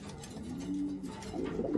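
Racing pigeons coo in a loft, a low steady throaty coo with soft pulsing, close by and fairly quiet, no talking.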